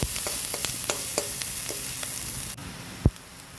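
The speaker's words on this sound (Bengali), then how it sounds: "এই যে লঙ্কা কুচি দিয়ে দিলাম, আর পেঁয়াজটা একটু হাফ হাফ ভাজাও হয়ে গেছে।" Chopped green chillies and half-fried onions sizzle in a hot pan with a loud, steady crackle and several spatula scrapes. The frying quiets partway through, then a single sharp knock lands near the end.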